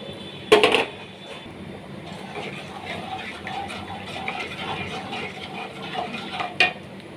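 Malpua batter stirred in a pan over raised heat, a spoon clacking sharply against the pan twice, at the start and near the end, with soft continuous scraping and faint sizzling between.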